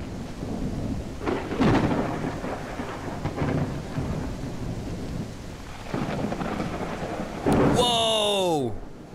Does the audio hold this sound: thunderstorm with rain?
yes